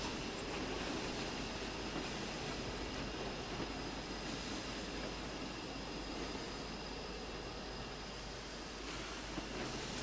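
A Class 101 diesel unit on the Weardale and Teesdale network in a train simulator game runs with a steady, even rumble and hiss, a constant moderate drone throughout with no talk.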